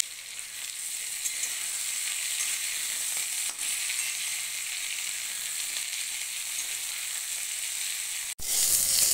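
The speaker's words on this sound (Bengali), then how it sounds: "বেগুন আর বরবটি একসঙ্গে আমি কিছুক্ষণ ভেজে নেব।" Eggplant and yardlong beans frying together in oil produce a steady, dense sizzle close by, broken near the end by a brief sharp clatter.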